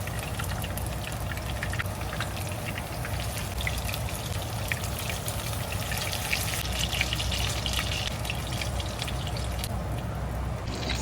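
Steady crackling and sizzling hiss of katsu deep frying in hot oil, a continuous dense spatter with no pauses, close and moderately loud.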